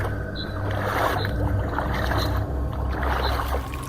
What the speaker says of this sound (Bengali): তারা দুজনে মিলে পাগলের মতো বৈঠা বাইতে শুরু করলো।